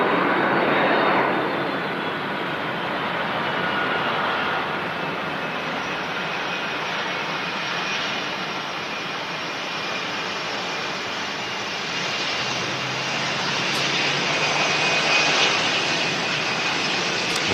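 A Boeing 757 with Rolls-Royce engines rolls out after landing at Manchester Airport, its engines roaring steadily as a broad, sustained rush at a moderate distance, swelling slightly near the end, with no voices.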